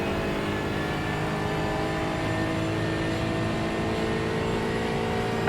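Aston Martin GT4 race cars lapping the VIR circuit in a racing game, with a steady, loud engine drone at sustained throttle throughout and no breaks in the sound.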